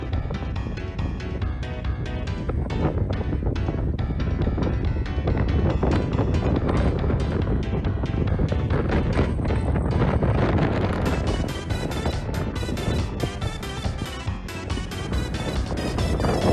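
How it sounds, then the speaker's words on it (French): Strong wind buffets the microphone in continuous rough gusts at the Cormainville wind farm in France, growing harsher toward the end, with no voices. "Et le vent se met à souffler comme pas possible."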